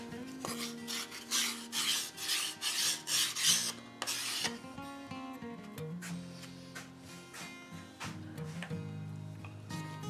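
Sanding the edges of wooden whirligig blades: brisk, rhythmic rasping strokes, close and clear, run for about four seconds before fading under tonal background music.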